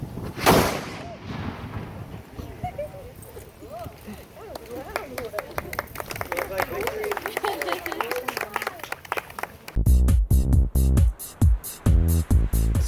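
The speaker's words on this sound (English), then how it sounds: "The firing of the cannon was extremely cool." A historic cannon firing at St Augustine booms once, a loud sudden blast echoing away, followed by crowd chatter and then clapping.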